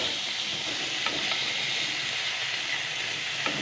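Diced potato, red and green tomato and spring onion fry together in a pan, a dense, even sizzle and hiss holding loud and close throughout with only a couple of faint clicks.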